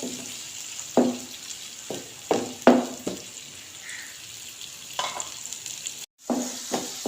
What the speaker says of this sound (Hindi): एक मिनट मैंने टमाटर को फ्राई कर लिया है।